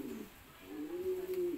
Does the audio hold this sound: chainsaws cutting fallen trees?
no